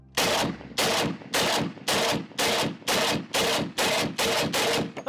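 Rapid bursts of automatic gunfire from a gun being emptied in a magazine dump, about ten loud, evenly spaced volleys in quick rhythm with no talking.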